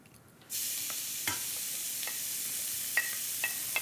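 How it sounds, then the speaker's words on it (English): Vegetables hit hot olive oil in a pan and start sautéing with a sudden, steady sizzle, broken by a few light stirring clicks and pops, close by with no talking. "I want to get my vegetables sautéed, so a little bit of olive oil"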